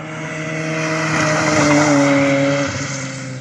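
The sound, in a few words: Honda Civic Type R EP3 car approaching on race track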